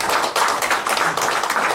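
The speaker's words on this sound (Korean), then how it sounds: "박수 한번 부탁드리고" An audience at a Korean security seminar applauds in steady, dense clapping that fills the room, loud and continuous without speech.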